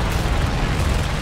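Dense, continuous rumbling bursts of aircraft gunfire fill a War Thunder air arcade dogfight, enemy planes firing on an I-15bis biplane fighter; the low, heavy roar stays steady and loud without a pause.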